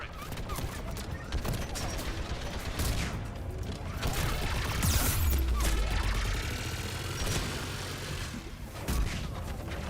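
Turret gunfire in the Mass Effect 3 video game during a fight near anti-aircraft guns, dense and continuous across the clip with mechanical clatter and a low boom, under a busy battle mix.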